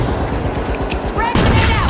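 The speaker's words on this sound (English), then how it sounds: "Frag grenade out!" Frag grenade blast in a video game arena match, a sudden louder boom arriving late amid a steady clatter of distant gunfire and game noise.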